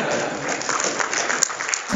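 Audience at a SharePoint conference keynote gives a brief, moderate patter of clapping that stays steady for a couple of seconds.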